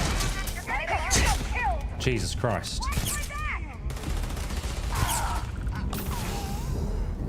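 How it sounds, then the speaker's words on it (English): Turret gunfire in the video game Starfield: Shattered Space crackles in rapid bursts beneath an excited voice talking over the action. "Oh, it's a turret."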